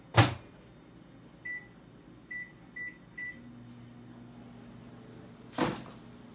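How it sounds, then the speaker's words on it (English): A microwave oven melting butter opens and shuts with a thud, four short electronic beeps sound from its keypad, then a low steady hum runs as it heats before another door clunk, all close and without speech. "I'm going to throw this in the microwave for 20 to 30 seconds, just long enough to melt it down"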